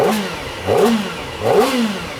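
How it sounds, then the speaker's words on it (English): A Kawasaki ZX4RR motorcycle engine idles just after an ECU flash, its note swelling and dipping in a steady, repeating rhythm, loud and close with a faint mechanical clatter. "it sounds like it's idling correctly now"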